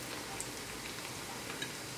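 Steady, soft crackling sizzle of egg-coated zucchini slices deep-frying in hot oil in a small pan, continuous and fairly quiet with faint pops throughout.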